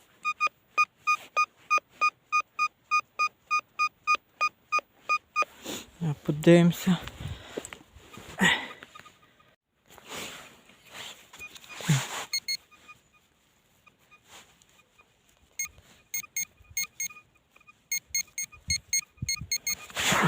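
Fortuna M3 metal detector in a field, giving a steady run of regular electronic beeps, then rustling and digging, then more beep bursts, with someone speaking between them.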